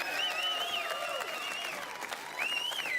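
An evening audience at the 2012 Bathurst 1000 Friday night live show gives a warm round of applause for three special contestants. The steady crowd clapping continues throughout, mixed with sustained tonal sounds.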